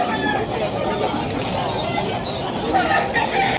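A hatch gray gamefowl rooster at a Malabon poultry market clucks and calls amid steady crowd babble and nearby voices.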